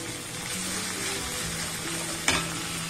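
Fennel seeds fry in a pan over low heat, giving a constant soft sizzle with one brief sharp crackle near the end.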